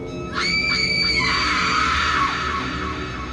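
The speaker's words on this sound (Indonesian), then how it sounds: "terdengar suara teriakan" A loud, high-pitched scream rises suddenly and holds for a couple of seconds, then trails off into a wavering wail.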